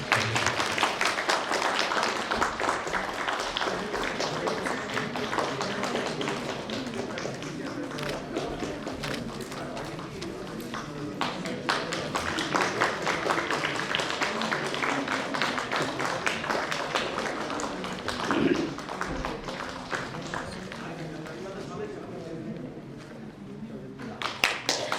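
Continuous applause from an audience at a national cholera and gastroenteritis preparedness plan launch, a dense patter sustained throughout with voices talking over it.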